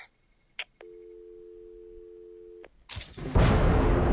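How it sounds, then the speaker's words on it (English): A telephone rings in the Batman: Arkham City video game, one steady electronic tone held for about two seconds after short beeps, followed by a loud crashing burst of game noise. "There's a phone ringing somewhere."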